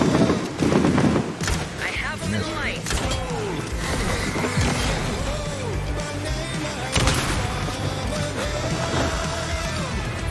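Gunfire from Alan Wake II, with a few sharp shots standing out amid a busy mix of combat noise, mechanical whooshes and ambient effects, while people talk throughout.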